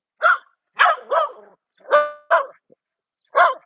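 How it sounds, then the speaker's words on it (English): A dog barks six or so times at close range, sharp separate yelps spaced irregularly with clean silence between them. "Oh, we got another dog coming."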